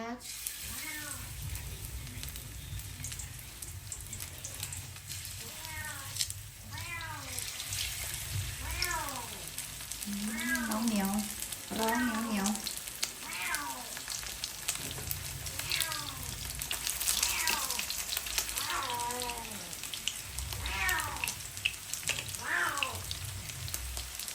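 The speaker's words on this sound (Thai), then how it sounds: "ใส่น้ำมันตั้งกระทะขึ้นก็จะทอดนะคะ" Oil sizzles and crackles steadily in a pan while deep frying chicken for teriyaki sushi, with repeated high warbling tones rising and falling above the frying.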